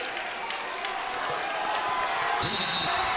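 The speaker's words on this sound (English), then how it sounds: "The crowd is roaring" A crowd in a gym roars and cheers during a high school wrestling match, a dense sustained wash of voices and clapping that swells toward the end, with a referee's whistle near the close and commentary voices present.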